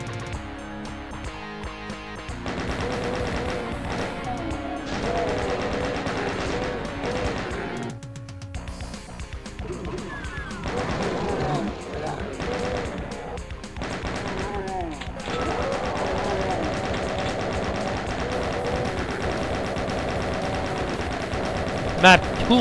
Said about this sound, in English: Oh, there's a chain gun right there.